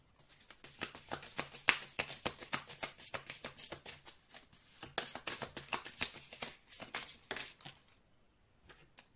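Oracle cards are shuffled by hand in a quick, steady riffle of crisp slaps that runs for several seconds, then stops, leaving near silence.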